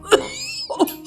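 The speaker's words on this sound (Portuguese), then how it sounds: "Mas por não estar acostumada a fumar, uma tosse inesperada escapou" A woman unused to smoking gives two short coughs right after drawing on a cigarette, close and clear with a brief pause between them.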